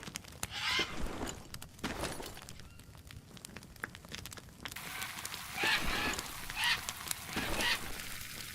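Birds honking goose-like in the jungle of the Green Hell video game, several loud repeated honks at intervals over a faint ambient background.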